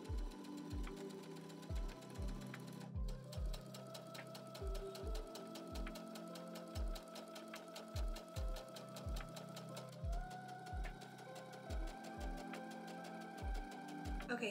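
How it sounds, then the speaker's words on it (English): A sewing machine sewing a straight stitch across silk pillowcase edges runs steadily at close range, its needle thumping in a fast even rhythm with a mechanical whir, pausing briefly now and then. "take our pillowcase over to our sewing machine and we're going to sew a straight stitch"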